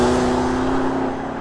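A Lamborghini Urus SUV with an Akrapovic exhaust gives a loud, close, sustained engine drone with a steady deep tone that eases slightly toward the end.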